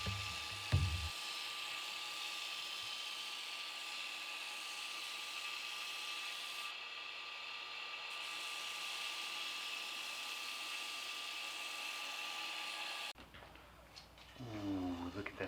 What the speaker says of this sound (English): I'm going to grind my bevels from that track right up to my fuller.